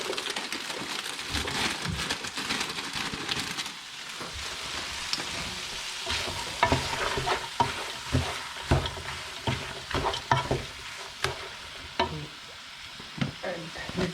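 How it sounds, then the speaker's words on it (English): Vegetable mix stir-fried in a pan for fried rice: a soft background sizzle under repeated scraping and clattering stirs that grow sharper and more rhythmic toward the end, with no talking. "Vegetable. Stir fry."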